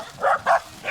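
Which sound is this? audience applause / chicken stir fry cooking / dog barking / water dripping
dog barking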